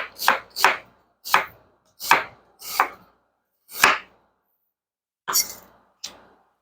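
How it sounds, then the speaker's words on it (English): A knife slicing food on a cutting board in about nine separate crisp chops, irregularly spaced with pauses between, close and clear with no voices. "we're going to slice them about somewhere between 1/8 and 1/4 inch thick"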